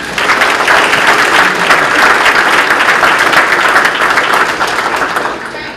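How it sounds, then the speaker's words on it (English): A roomful of people give students a loud, dense round of applause at a city mayor's awards ceremony, sustained and close before gradually tapering at the end. "let's give them a round of applause at this time"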